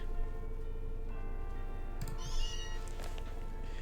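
A cat-like Pokémon cries out in Pokémon Legends Z-A, a short meow-like call ringing over steady game music, with a faint ticking in the background.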